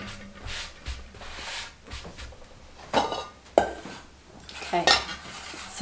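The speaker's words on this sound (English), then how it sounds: "I'm going to wipe my board directly into my bowl" Chopped broccoli florets wiped off a cutting board into a bowl, a series of close scraping swishes and light knocks against the board and bowl, irregular and fairly loud.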